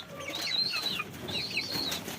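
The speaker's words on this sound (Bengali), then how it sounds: "খাওয়ার জন্য লাফালাফি করছে।" Pet pigeons flap and flutter close by as they jump for food, soft repeated wingbeat bursts with faint chirps over a low background.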